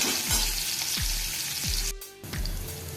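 Thinly sliced onion frying briefly in a pan for vegetable upma, a steady close sizzle with repeated low stirring thumps and a short dip in the middle.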